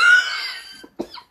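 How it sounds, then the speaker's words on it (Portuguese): Close, loud cough from a person with an allergy to grasses, wheat and other plants, heard as a harsh rasp that fades out, then one short sharp cough and a brief catch of breath after a gap. "Esse tosse é de alergia."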